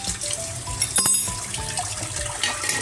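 Water runs and splashes as dried prawns, soaked in hot water, are rinsed in a kitchen strainer, a close steady gush with small clinks and rattles from the sieve.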